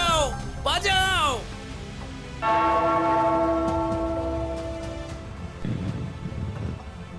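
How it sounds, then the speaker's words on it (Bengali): A hand-rung bell in a cartoon scene gives a bright, sustained clang that rings out and slowly decays, following a brief burst of voices and whooshing effects. "ওই ঘন্টাটা বাজাও, বাজাও।"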